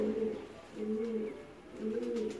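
Pigeons in a large loft in Pakistan give soft, throaty coos close by. The coos come in three rhythmic, evenly spaced rounds over a low background hum.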